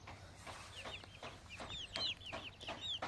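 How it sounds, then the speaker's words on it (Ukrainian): Six-week-old chicks cluck and peep softly in short, scattered calls, fairly close, over quiet background noise. "Наші маленькі курчатка."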